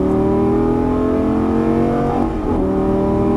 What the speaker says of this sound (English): Now we're on that straightaway, throttle all the way down.